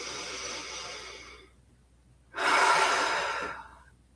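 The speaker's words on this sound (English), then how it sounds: "Take a deep breath." One deep breath during a calming exercise: a long airy exhale, a brief pause, then a second loud breathy rush, close and clear with no talking.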